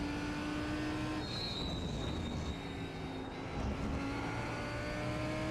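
Lamborghini GT3 race car engine in a racing video game at Laguna Seca, a steady droning engine note that shifts pitch slightly as it runs, continuous and moderately loud with no talk.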